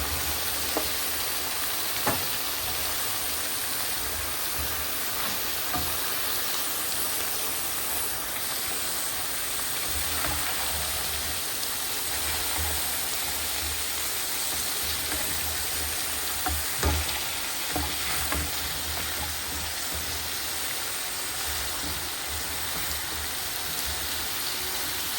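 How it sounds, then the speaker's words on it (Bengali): Bitter gourd frying in a pan for a curry with potato and prawns makes a faint, steady crackling hiss that runs without pause, scattered with small pops and occasional soft stirring knocks. "এখন করলাগুলা দিয়ে দিব।"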